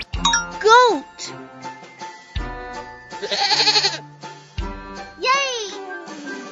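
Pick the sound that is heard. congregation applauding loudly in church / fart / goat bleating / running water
goat bleating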